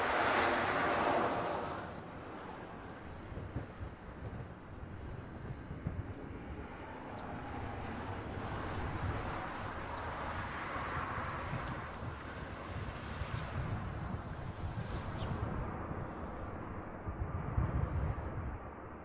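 A Southwest airliner lands at Honolulu airport on the crossing runway, arriving from Maui. It makes a distant, rushing jet roar mixed with outdoor wind noise that swells toward the end.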